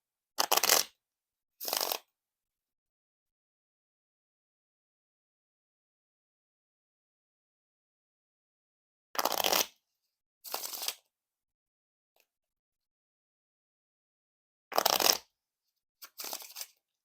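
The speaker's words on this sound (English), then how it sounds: "And now time for the Riffle Shuffle or Bridge Shuffle." Orbit v8 Parallel Edition playing cards are riffle-shuffled in quick rattling bursts, several pairs of them separated by stretches of silence, close and crisp.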